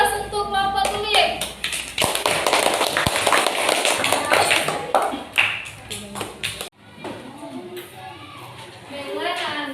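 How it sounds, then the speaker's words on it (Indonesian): A classroom of students claps for a presenting group, a lively burst of many hands that runs for several seconds, then cuts off abruptly, leaving a few voices talking. "Dan beri aplaus untuk kelompok kulit."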